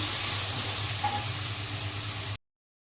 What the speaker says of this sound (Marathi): कढीपत्ता टाकते थोडासा मी, कढीपत्ता पण फिरून घेते.